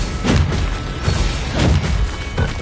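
Repeated booming blasts from the Bombarda spell in Hogwarts Legacy on PS5, several loud thuds in quick succession with crackling debris between them and no talk.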